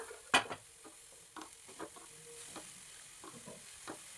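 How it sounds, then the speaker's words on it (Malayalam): Chopped pumpkin leaves tossed into a pan for a Kerala-style thoran, giving faint, scattered soft taps and rustles with a light sizzle, one sharper clatter near the start, and no talking. "ഇനി മത്തയില ചേർത്ത് കൊടുക്കാം"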